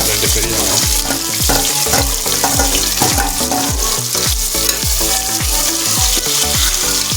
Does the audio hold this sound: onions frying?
yes